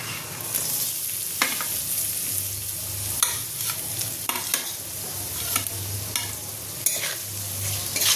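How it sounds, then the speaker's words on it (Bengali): Onion, capsicum, grated ginger and garlic fry in a pan for Schezwan fried rice, with a steady close sizzle broken by repeated scraping stirs throughout; no talking. "পেঁয়াজ, ক্যাপসিকাম, আদা গ্রেট, রসুন গ্রেট সব দিয়ে দিলাম। এবার এটা আমি হালকা ভেজে নেব।"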